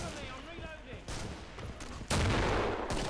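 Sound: gunfire in Killing Floor video game

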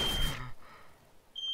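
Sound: smoke alarm beeping

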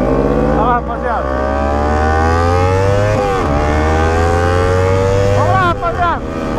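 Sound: Ninja 300 and Titan 160 motorcycles accelerating

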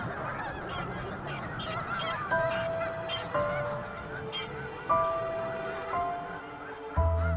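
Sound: snow geese honking in a nesting colony

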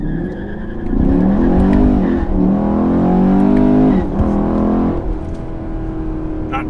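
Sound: Chevrolet Camaro or Corvette accelerating 0 to 60 in manual mode

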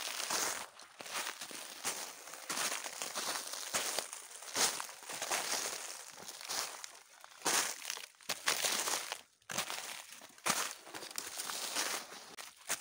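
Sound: snow crunching underfoot while walking in the taiga forest

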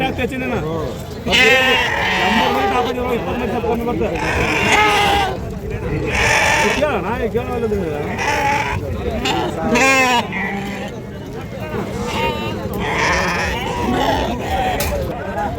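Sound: sheep and lambs bleating at livestock market

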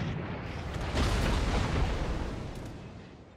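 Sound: warship guns firing, World of Warships video game

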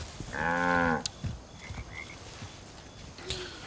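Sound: cows mooing, from video game Far Cry 5

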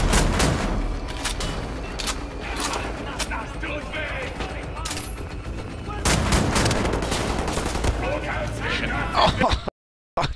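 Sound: gunfire from video game Wolfenstein: The New Order

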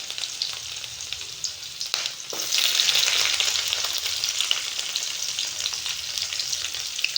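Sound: crushed garlic frying in oil for fish curry

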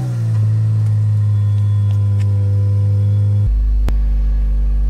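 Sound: BMW M52/M54 E46 engine starting after oil change and engine flush

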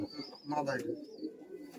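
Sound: Giribaz pigeons cooing

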